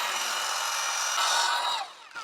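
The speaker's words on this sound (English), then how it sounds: "Now you can see the drill coming through there." A Kreg Rebel 20V pocket hole drill bores into wood with a loud, steady high whine that strains slightly higher as it cuts, then cuts off abruptly, leaving faint handling sounds.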